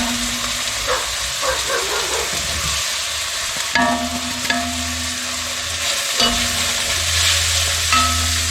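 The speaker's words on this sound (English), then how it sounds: "Give it a good stir" Chicken curry with spices stirred in a pot after cooked onions, giving a steady sizzle and soft scraping throughout, with a few faint tonal hums over the frying noise and no talking.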